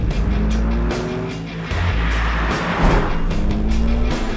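A BMW M2 drives hard, its engine and exhaust roaring loudly close by, with a brief dip as the revs change and tires squealing over the steady drone.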